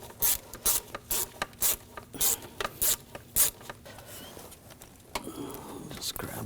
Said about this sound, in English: use a 6mm socket, and loosen up this clamp right here